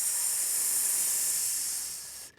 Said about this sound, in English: snakes, when they see anyone coming, they will always hiss